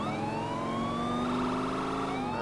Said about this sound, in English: Alright, you wanna cut your sirens, Quinn?